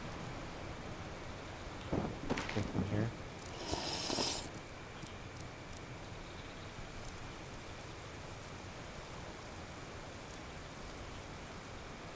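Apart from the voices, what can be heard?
rain falling in the video game Card Survival: Tropical Island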